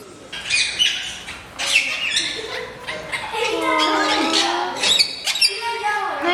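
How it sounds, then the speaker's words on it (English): Small baby birds chirp in quick, high, thin bursts, fairly close, with a person speaking softly over and between the calls. "We're gonna go see the baby birds."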